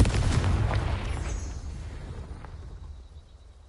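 A Confringo fire spell exploding in Hogwarts Legacy, a loud, close booming blast with a deep rumble that slowly fades away over a few seconds, no voices.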